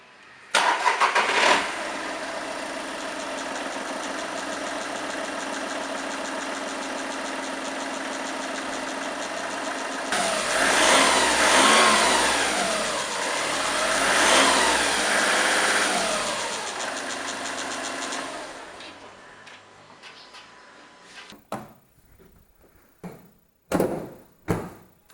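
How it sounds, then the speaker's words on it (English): A Volkswagen Polo engine with about 130,000 km cranks and catches, then settles into a steady idle with a brief rev in the middle, before cutting off into a few clunks. "I'm going to start the engine up so you can hear it for yourself."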